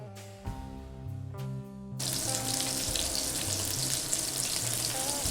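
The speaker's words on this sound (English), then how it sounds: "we're going to give those about a minute to 2 minutes to get a nice color and sear on the first side" German frikadellen, flat meatballs, sear in a frying pan with a steady loud sizzle that jumps up sharply partway through and holds as a dense continuous hiss, with faint clinks before it.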